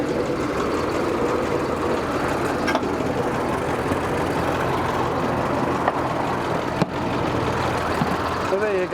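A 1990 Leyland truck's engine running with a steady, loud diesel rumble throughout, with a couple of sharp knocks and a voice talking over it.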